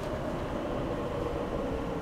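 Metro train running inside an airport, a steady low rumble with a broad hiss of rolling wheels, heard close and fairly faint with no voices.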